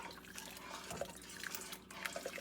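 Cornstarch and cold water slurry being stirred into a pot of corn chowder, giving soft wet liquid sloshing and light drip-like clinks, close and continuous at a low level with no talking.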